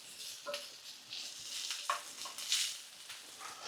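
Skinned, chopped spicy chorizo sizzles in a jambalaya pot while a utensil stirs it, giving steady close frying crackle with scraping stir sounds and no talking.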